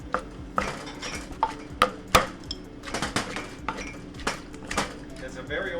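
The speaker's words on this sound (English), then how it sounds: "So how long do you usually mortar and pestle it for?" In a vegan Thai/Indian restaurant kitchen, a mortar and pestle pounds ingredients in a steady run of sharp, knocking thuds, close by, with some talk in the background.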